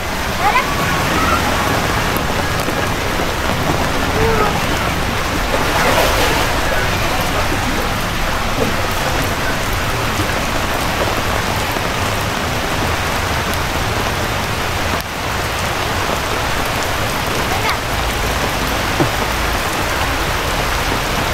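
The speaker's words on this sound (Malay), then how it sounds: "Hujan lebat. Hujan sangat lebat." Very heavy rain pours down at the Lost World of Tambun fishing ponds in a loud, dense, unbroken roar of drops hitting water and surfaces. Faint voices are buried beneath the downpour.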